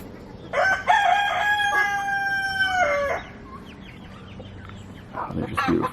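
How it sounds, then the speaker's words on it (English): An Indian blue peafowl gives one loud, drawn-out, strongly tonal call lasting a couple of seconds and sliding down at the end, then quieter rustling before another short call begins. "So if you've heard of peacocks before, you've heard of Indian blues"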